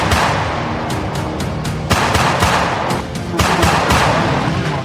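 Rapid bursts of gunfire fired at a car in Iran, a string of sharp loud cracks one after another over dense noisy background, with no talk.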